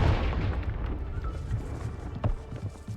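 A Confringo spell explosion in the Hogwarts Legacy video game: a loud, continuous broadband blast and rumble that holds for about three seconds with a few sharper cracks near the end, with no voices.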